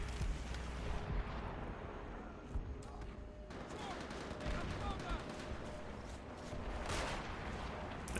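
Artillery explosions and scattered gunfire from a Call of Duty: World at War battle, heard fairly faint and distant, with rolling booms and crackling shots forming a steady war backdrop.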